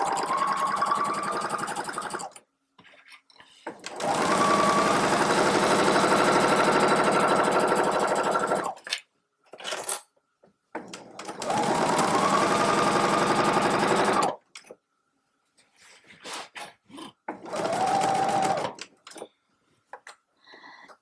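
A sewing machine stitches fabric for a drawstring bag in several loud, steady runs of a few seconds each, separated by pauses with faint handling noises, no voices.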